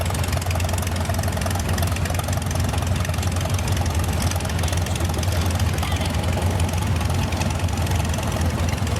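A Farmall F20 tractor engine runs steadily in an antique tractor parade, giving a continuous low, knocking idle rumble that stays close and even throughout.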